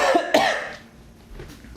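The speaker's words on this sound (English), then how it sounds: "I'm going to cough and then we're going to get back into it." A person coughs twice in quick succession, close and loud, followed by a quieter throat sound and near silence.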